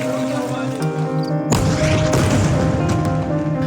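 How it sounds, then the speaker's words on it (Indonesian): An explosion strikes a residential building in the Al-Saftawi area of Gaza City, a sudden loud blast halfway through followed by rumbling debris and commotion, over a background hum and music-like tones. "Rekaman video memperlihatkan detik-detik ledakan menghantam bangunan"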